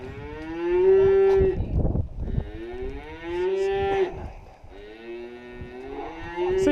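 Calves being brought in for dosing on a farm moo repeatedly, three long loud bellows at steady intervals, fairly close, with shuffling noise between calls and no talk.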